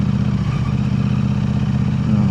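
A KTM 890 Adventure R motorcycle fitted with an Arrow exhaust drones steadily at cruising speed, a low, even engine hum with faint clatter and wind, close and continuous.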